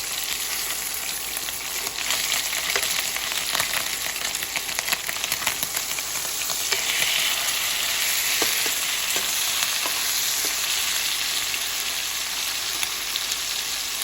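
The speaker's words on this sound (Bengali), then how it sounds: "অলমোস্ট আমার মাছটা এবার ভাজা কমপ্লিট।" Roe-filled bata fish fry in a pan with a dense, constant sizzle and crackle, scattered sharp pops and spits rising above the steady hiss throughout.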